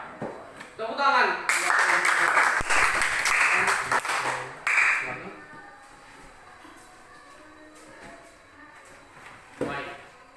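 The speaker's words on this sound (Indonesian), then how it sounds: "Tepuk tangan." Schoolchildren in a classroom clapping for a group presentation, a loud burst of applause lasting about three seconds, then fading into quieter room noise with a few scattered claps near the end.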